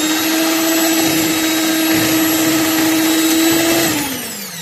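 An electric mixer beats margarine, sugar and other ingredients for a bread batter, a loud steady whirring hum held for several seconds before it winds down at the end, with no talking.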